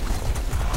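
Horse hooves in War of the Roses pound in a quick, dense clip-clop gallop, loud and close, with no talk over them.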